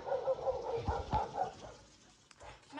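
A big dog at home gives a few short, fairly close barks and yelping whines in quick succession, then falls quiet.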